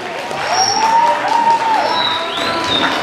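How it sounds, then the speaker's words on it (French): Audience at a hypnosis show applauding, a dense steady wash of clapping that fills the room, loud and close, with faint voices and whistle-like tones above it. "Allez, mesdames et messieurs, on peut les applaudir"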